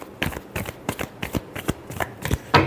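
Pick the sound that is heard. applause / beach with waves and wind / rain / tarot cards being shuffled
tarot cards being shuffled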